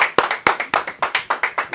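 Steady group clapping in a studio during a hypnotist's radio visit, sharp hand claps repeating at a quick even rhythm, close and fairly loud with no talk over them.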